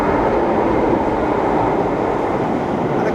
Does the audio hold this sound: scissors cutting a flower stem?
no